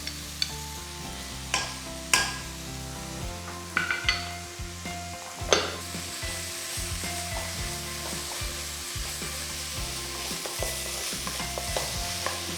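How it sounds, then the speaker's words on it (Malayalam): A tablespoon of maida flour and a tablespoon of butter are stirred in a hot pan for a meatball sandwich. A steady close sizzle runs under repeated spoon scrapes and sharp clinks against the pan. "മൈദ ഇട്ട് നന്നായിട്ട് മിക്സ് ചെയ്ത ശേഷം നമുക്ക് 1 ടേബിൾ സ്പൂൺ ബട്ടറും കൂടി ഇതിനൊപ്പം ഇടാം."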